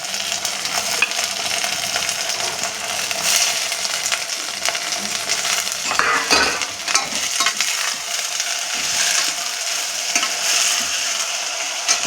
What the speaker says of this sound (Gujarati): હવે આપણે નાખી દઈશું ગવાર।